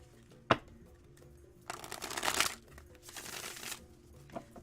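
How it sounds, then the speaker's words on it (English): A deck of tarot cards being shuffled up close during a live reading, with a sharp snap followed by two bursts of riffling and crinkling papery rustle, fairly quiet, with no speech. "These are fun to shuffle,"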